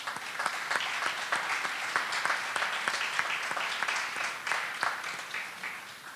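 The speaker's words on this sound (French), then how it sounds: "Donc, une bonne main d'applaudissements pour M." Steady applause from an audience honoring an outgoing mayor after forty years in politics, dense overlapping claps at an even level for several seconds with no talk on top.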